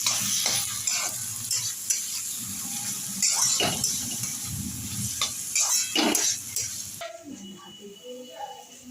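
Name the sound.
shrimp being stirred into frying onion and garlic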